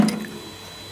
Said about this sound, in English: that's overflowing, and where that's coming out is in here, in the pan. You can see just running away all the time.